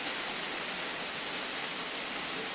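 Heavy rain falls steadily over a garden, a dense, even hiss that holds at constant loudness throughout with no talk.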